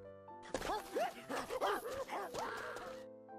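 A dog chasing someone along a road gives a quick string of high yips and barks with whimpery tones, close and moderately loud, mixed into a short music-backed passage.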